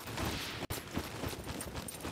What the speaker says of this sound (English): Shooting on me, changing position.